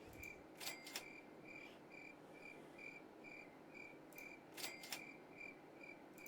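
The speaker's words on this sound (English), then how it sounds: "And for that wisdom, all I get is crickets." Crickets chirp as a sound effect in a quiet, regular pattern of short repeated trills over soft background hiss, with a few sharp clicks partway through.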